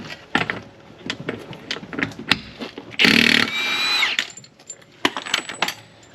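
Power tool loosening the wheel axle nut on a Pontiac Grand Am during wheel bearing replacement, a loud continuous burst of about a second amid scattered clanks and tool knocks in a garage.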